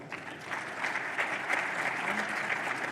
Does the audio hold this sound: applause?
yes